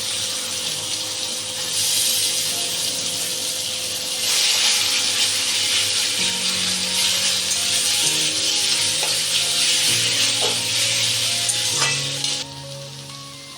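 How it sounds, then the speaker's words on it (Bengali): Taro leaves tipped into a pan with a hilsa fish head and stirred, giving a steady close sizzle and frying hiss with occasional stirring scrapes, under soft background music. "এবারে আমি শাকটা এর মধ্যে দিয়ে দিচ্ছি, কচুর শাকটা।"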